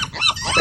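A seagull lets out a harsh, honking squawk close by at an outdoor lunch table, one loud cry that swells and fades within a moment.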